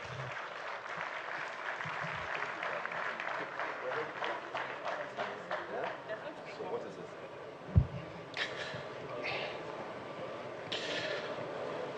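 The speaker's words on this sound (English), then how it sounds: "That applause is not strong enough for this." Audience at a formal security gathering with former Nigerian presidents and ex-Chief of Defence Staff Irabor applauds an author: sustained moderate clapping from a crowd, with scattered louder claps and murmuring voices mixed in.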